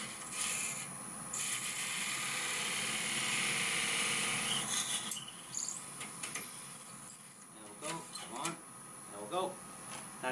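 Turning tool nibbling a long-stemmed wooden goblet on a lathe: a steady bright scraping hiss for several seconds that eases off, followed by softer intermittent cuts with a voice talking over the workshop hum.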